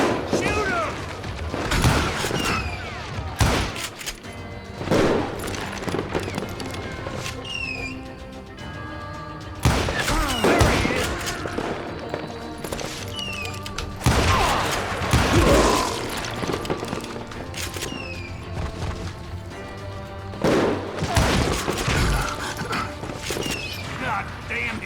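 Gunfire rings out in the Western shooter Call of Juarez: Gunslinger, with loud, close shots and crashes in repeated bursts over a busy game soundscape while voices talk throughout.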